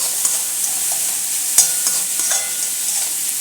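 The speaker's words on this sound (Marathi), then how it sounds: "परत थोडं मिक्स करूया।" Vegetables with finely chopped capsicum being stirred in hot oil in a pan, a soft continuous sizzle with a few light scraping and clinking strokes of the spoon, close by and without speech.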